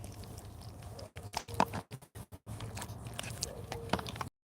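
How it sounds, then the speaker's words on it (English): A dog crunches and bites on a treat, giving a rapid run of close, sharp chewing clicks and crackles with brief pauses, faint background noise beneath. "You better chew it up and eat it this time."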